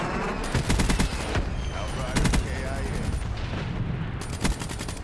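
Rapid bursts of automatic gunfire in the Call of Duty Black Ops 3 video game, loud repeated volleys with explosive booms and game effects in between, steady and close throughout.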